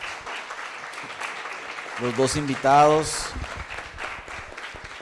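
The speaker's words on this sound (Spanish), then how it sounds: "Les damos un aplauso nuevamente a" A crowd at a conference applauds two guests, a steady clatter of clapping hands running throughout, with a voice speaking briefly over it in the middle.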